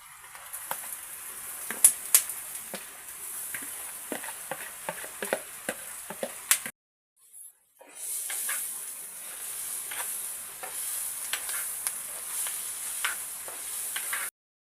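Green field beans tossed with curry leaves, cinnamon and dried red chillies in a pan, giving a steady close sizzle with sharp ticks and stirring scrapes, a brief gap, then a denser continuous frying hiss.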